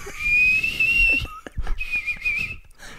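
Someone whistles a melody up close, a few clear phrases separated by brief pauses and small clicks.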